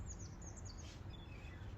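Robins and blackbirds squabbling beside a canal, a flurry of faint, high chirps and short calls in quick succession over a low, steady outdoor background.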